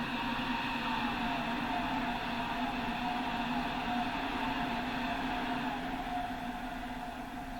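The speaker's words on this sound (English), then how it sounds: "Oh, fast train." A fast train passes in the Train Sim World 4 simulator, heard as a steady, dense rushing roar that fills the whole stretch at an even level before easing slightly at the end.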